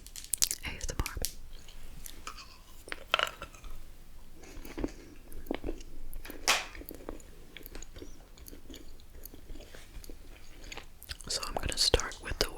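Gum chewing close to the mic in an ASMR setting, with wet, smacking bites and soft squishy clicks repeating irregularly throughout, under faint whispered sounds.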